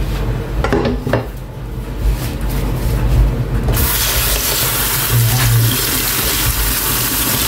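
Cooked garlic pasta is rinsed under a running tap in a kitchen sink, water splashing with clinks and clatter of a pot and utensils, close and fairly loud.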